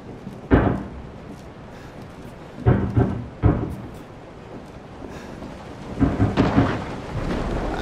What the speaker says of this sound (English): lightning cracks